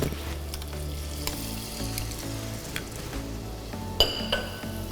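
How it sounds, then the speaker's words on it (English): Green seasonings of sweet pepper, tomato, chopped chive and parsley sautéing in a hot pan, a soft continuous sizzle with occasional utensil scrapes and a bright clink of metal near the end. "I will now add my green seasonings to be sauteed"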